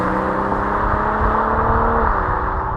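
A 2023 BMW M340i xDrive sport sedan on the road, its engine giving a steady, loud drone with tonal harmonics that dip slightly near the end, heard close and continuous with no talking.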